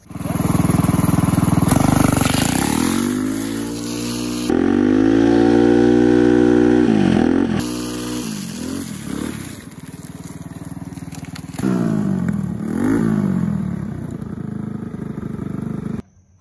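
A go-kart fitted with metal drift sleeves runs with a loud, continuous engine drone that rises and falls as it revs and slides, joined by rough scraping grind, with a brief near-silent gap near the end.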